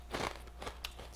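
Close-up, quiet crunching as someone bites into an airy, crunchy shrimp and crab flavored snack, a few crisp crackling bites in quick succession.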